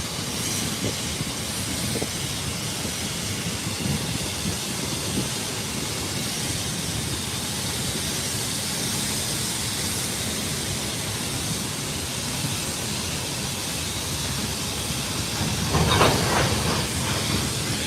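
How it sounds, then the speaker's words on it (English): Passenger train slowing to a stop, a steady broad hiss and rumble of rail cars running throughout at moderate loudness, with a brief louder burst near the end and no talking. "Uh-oh, train stopping."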